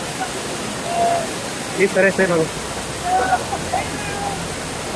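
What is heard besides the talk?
waterfall on a mountain at Tungareshwar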